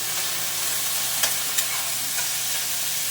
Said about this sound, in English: And I'm going to give this a toss in the skillet and turn my burner down. I'm looking to saute it.